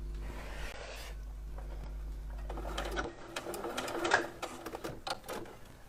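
A sewing machine stitches a dress in several short bursts of fast, rhythmic needle chatter, with soft handling sounds between runs and a low hum in the first half.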